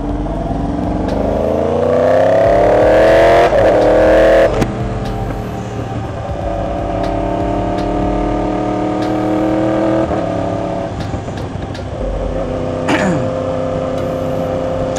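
A motorcycle with a modified exhaust revs hard up close, rising and falling in repeated bursts with a rough, throaty exhaust note, then idles and revs again.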